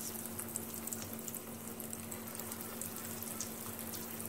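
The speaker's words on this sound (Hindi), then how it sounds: "तो तेल हमारा गरम हो चुका है, अब हम इसमें 1 बाय 1 रोल्स ऐड करेंगे।" Chicken cheese rolls fry in hot oil in a kadhai, giving a steady, even sizzle with a faint low hum that holds unchanged from start to finish.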